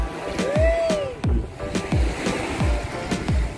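Waves breaking on a white-sand beach at Balakid Island, Zambales, a series of close rhythmic washes about every half second to second, with water splashing and wind, no talking.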